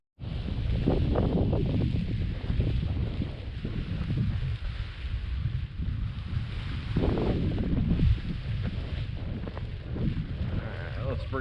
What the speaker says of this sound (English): There's that 12-mile-an-hour gust.